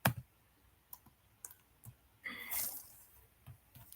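Python code being typed on a computer keyboard: scattered single key clicks and a short rushed flurry in the middle, close and fairly quiet, with no speech.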